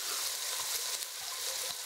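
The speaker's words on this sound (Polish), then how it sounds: "wrzucamy nasz karczek na gorący i obsmażamy ze wszystkich stron" Pork neck sears in a hot pan, giving a faint, steady high-pitched sizzle without pause and with no voices over it.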